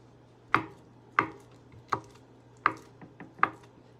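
Knife chopping green peppers and onions for sausage pizza toppings on a cutting board, six sharp, close chops at an uneven rhythm with a steady low hum underneath.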